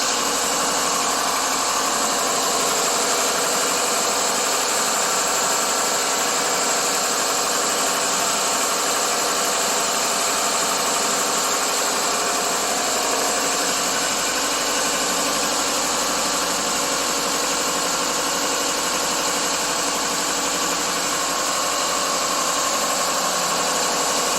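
A 2001 Subaru Legacy engine, running rough and overheating after an upper hose replacement, holds a steady 1500 RPM with a constant droning hum and faint vibration, heard close up and without speech.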